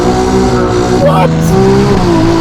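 A Novitec-tuned Ferrari 296 GTS with a turbocharged engine drones loudly from inside the cabin, its pitch shifting between steady revs while someone talks over the engine note.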